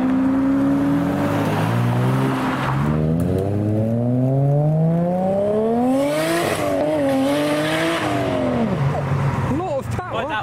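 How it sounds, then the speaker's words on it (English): A Lamborghini Aventador S arrives at a car meet, its engine revving loud and close with a rising, falling howl that swells again toward the end and stays steady throughout. "When suddenly a Lamborghini Aventador S appears."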